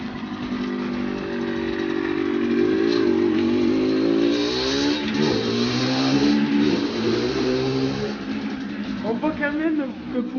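A stock Rieju MRT 50 SM 50cc motorcycle engine revs with a fairly deep, throaty tone, rising and falling in pitch over about ten seconds, fairly close and loud.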